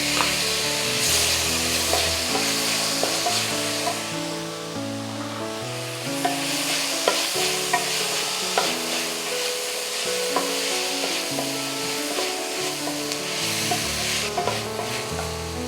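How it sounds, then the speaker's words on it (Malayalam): Finely chopped medium tomato and onion being sautéed in a pan for Kerala mutton curry, with continuous sizzling and frying under repeated scraping and stirring strokes of a spoon against the pan, close and fairly loud, no talk. "ടൊമാറ്റോ ഇട്ടതിന് ശേഷം നല്ലോണം വഴറ്റിയെടുക്കണം. ഉള്ളിയും ടൊമാറ്റോയും നല്ലോണം വഴണ്ടിട്ടുണ്ട്."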